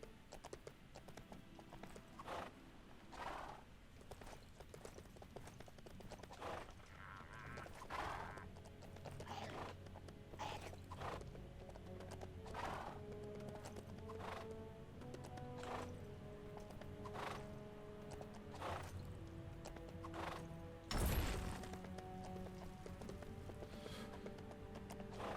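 Hooves clip-clop steadily as a horse gallops in the Lego Lord of the Rings video game, with a whinny near the end. The game audio sits at a fairly quiet level throughout, with no talk.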